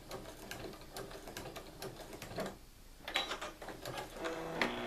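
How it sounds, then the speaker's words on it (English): Sewing machine stitching binding onto a quilt, a steady rapid mechanical patter that runs close and fairly quiet, pausing briefly before resuming with bursts of clicking. "And now I'm sewing past where I first started stitching, and then I'm going to reinforce those stitches."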